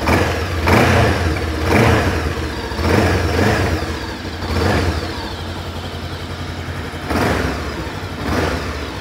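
A Bristol Venturi 500 motorcycle with stock exhaust revs in repeated short blips, roughly five or six rises and falls of a mid-pitched engine note, close and fairly loud.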